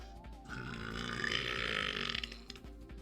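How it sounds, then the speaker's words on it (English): One long, loud burp, close and drawn out for about two seconds, alone with no talking over it. "Did the burp wake you up enough?"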